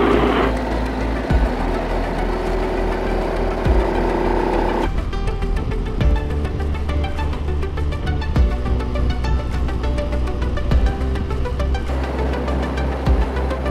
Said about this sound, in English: Let me just gear back a little bit. Having a little climb.